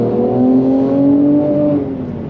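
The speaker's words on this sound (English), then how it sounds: "give some gas." A 2020 Mercedes C43 AMG sedan's engine revs hard under acceleration, a loud, steady rising drone with layered harmonics close by, easing slightly near the end, no talking.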